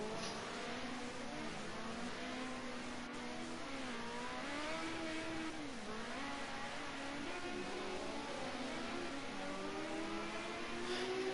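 Ford Sierra Cosworth Group A touring cars race at Bathurst in a racing video game, a steady loud engine drone with rising and falling revs through gear changes, continuous throughout with no talk.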